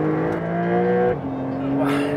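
A Porsche 911 Carrera 4S Cabriolet switched into Sport mode, its engine holding a loud, steady tone that drops slightly and settles at a new pitch, close and continuous.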